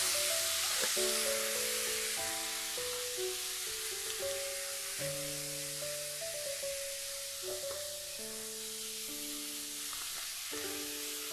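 Beetroot and yard long beans for a vegetarian thoran sizzle and are stirred in a pan. The frying hiss holds steady the whole time, with a tune playing over it.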